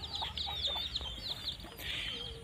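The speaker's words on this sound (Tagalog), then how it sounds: "Ang daming mga manok, 'di ba?" Many chickens cluck continuously around a rural house, several birds close by with overlapping clucks and short calls, steady and fairly loud.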